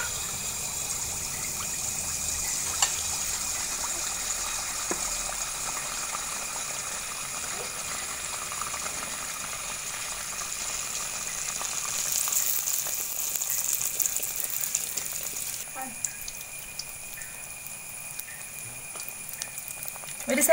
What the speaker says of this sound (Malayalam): ഇനി നമുക്ക് വെളിച്ചെണ്ണയിൽ ചുട്ടെടുക്കാം. വെളിച്ചെണ്ണ തിളച്ചു തുടങ്ങി.